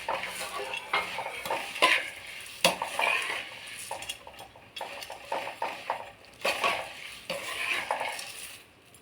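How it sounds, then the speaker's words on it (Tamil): Puffed rice being stirred in a hot pan on low heat for spicy kara pori, a continuous dry rustling and scraping with irregular utensil knocks against the metal pan, moderately close and fairly quiet. "இப்போ பொறி பாருங்க நல்லா கிளறிட்டேன் ஸ்லிம்லேயே வச்சு நல்லா பொறி சூடாகிற வரைக்கும் நல்லா கிளறணும்"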